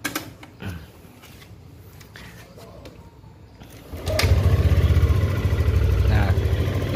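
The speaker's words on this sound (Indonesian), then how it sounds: "Nah ini sekarang udah tinggal kita hidupin aja ya, kita dengerin suara mesinnya kayak gimana." A Yamaha Aerox scooter engine starts after a few seconds of faint clicks and handling noises, then settles into a loud, steady idle with a low, even pulsing rumble.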